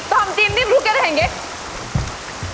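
Rain falls as a steady background hiss while a voice speaks over it.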